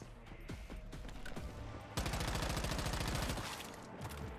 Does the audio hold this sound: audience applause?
no